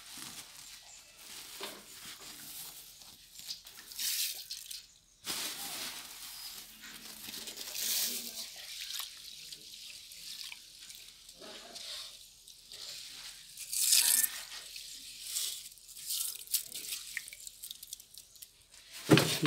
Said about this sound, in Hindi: अब इस घोल में हमें डालना है बीजों को, तो हम इस पे बीज डालेंगे।